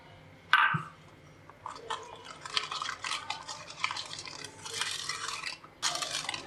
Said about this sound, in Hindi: एक अंडा और इसे मिक्स करेंगे।